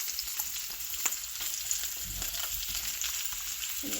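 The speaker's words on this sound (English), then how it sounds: "Gotta get these onions out of here. I don't want to cook them down too far." Beef sausage dogs and onions fry in a pan with a loud, continuous close sizzle and sputter, plus light stirring and scraping clicks, with no talking.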